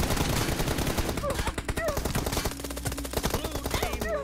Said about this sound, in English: He whipped out the pistol